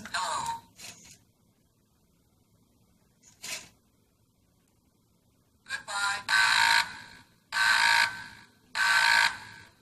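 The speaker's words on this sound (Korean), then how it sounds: "세 번째는 두 번이 돌아가면서 삐삐삐 소리와 함께 경고가 나왔습니다" A few short electronic chirps at first, then a run of loud, harsh buzzing alarm beeps repeating in steady bursts.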